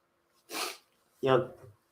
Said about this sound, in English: Just blow my nose a bit.